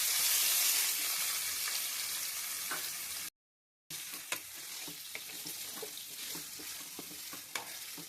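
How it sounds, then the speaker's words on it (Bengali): Marinated ingredients for palak paneer lightly frying in a pan, a steady close sizzle with stirring scrapes, cut by a brief silent gap before the frying resumes. "এগুলোকে একটুখানি ভাজবো হালকা করে একটু জাস্ট লাল লাল করে ভেজে নেব"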